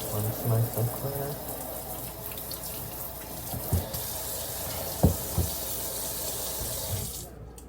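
Tap water running steadily while hair is rinsed on a wash day, a continuous splashing stream with a few louder splashes and faint low voice underneath.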